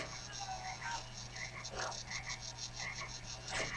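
Frogs croak repeatedly in the Grim Adventures of Billy and Mandy video game, a rhythmic series of short raspy calls over a steady low electrical hum, fairly close and with no talking.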